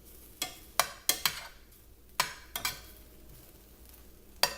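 Shrimp turned over in a hot pan for shrimp lo mein, with several sharp utensil clacks and scrapes against the pan at irregular intervals over a faint, steady sizzle.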